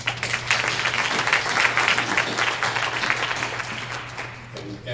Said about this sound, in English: So they're there to be applauded.